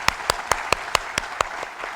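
Rhythmic hand clapping in a podcast studio, about nine evenly spaced sharp claps in quick succession, close and clear, fading slightly toward the end with no talking.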